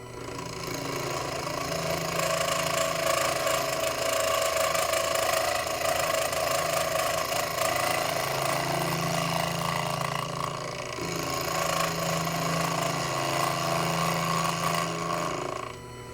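A Proxxon FF230 benchtop milling machine cuts a vise stop, its motor whining steadily with a gritty cutting tone held throughout, briefly easing near the middle before resuming, loud and close with no talk.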